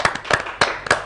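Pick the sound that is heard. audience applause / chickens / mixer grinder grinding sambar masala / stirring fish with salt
audience applause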